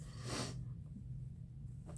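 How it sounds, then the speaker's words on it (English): One sharp, close nasal sniff from allergies, then quiet breathing and a second faint sniff near the end. "Sorry, I have the sniffles."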